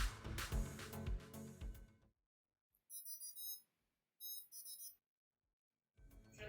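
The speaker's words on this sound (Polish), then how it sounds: "abyście usłyszeli dokładnie dźwięk łączenia z aparaturą" A Mobula 6 drone sounds two short bursts of high electronic beeps while linking to its radio controller, clean and close with silence between them, framed by louder unrelated sound at the start and end.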